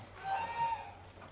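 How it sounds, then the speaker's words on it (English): A short honking call from a goose, fairly faint and a little distant, with quiet background noise, in the Penang countryside. "What's the noise all about, guys? So we've got some geese there."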